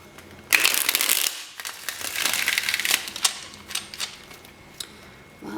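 Tarot cards shuffled in several crisp, riffling bursts with short pauses between, close by and with no voices.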